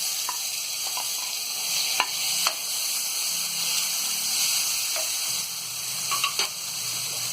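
Chopped green chillies and tomatoes frying in a pan for palak paneer, a continuous close hiss and sizzle with a few sharp utensil taps and stirring sounds.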